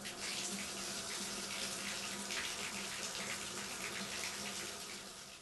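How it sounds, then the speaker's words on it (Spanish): Cold water gushes from a tap at full pressure, a dense, steady rushing hiss that stays loud and even before easing slightly at the end. "Deje correr el agua fría a la presión máxima por 5 minutos."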